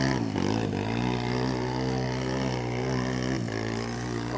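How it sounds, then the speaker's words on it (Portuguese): A powerful boat engine runs loud and steady on a canal trip between São Raimundo and Canafista, a deep continuous roar with strong low harmonics that holds throughout with no pauses. "O motor de uma potência horrível."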